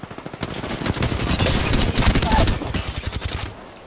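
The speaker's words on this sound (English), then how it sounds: "The second squad is firing on us." Rapid automatic gunfire from an enemy squad in Apex Legends, dense bursts of shots rattling loudly and continuously for several seconds before tapering into scattered shots.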